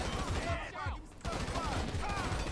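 Rapid bursts of SMG gunfire in GTA 5 crackle through a gang shootout, repeated volleys with a short lull in the middle, loud and close, with game sounds and voices mixed in.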